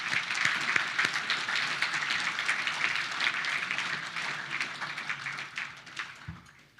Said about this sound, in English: if we could give him a round of applause